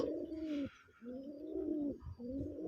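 Pigeons coo in repeated low throaty rolls, three sustained phrases separated by short pauses, close and fairly loud with a faint background hiss; the birds are full-feathered desi colored Golla pigeons kept in an iron cage.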